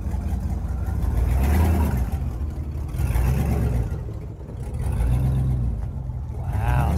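A V8 car engine at a supercar meeting, a steady deep rumble that swells and eases in waves as it idles and revs nearby, with outdoor crowd noise around it.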